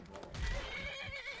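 A horse whinnies in the video game Skyrim, a loud, wavering call over a busy game mix with low hoofbeat-like thumps, lasting just over a second.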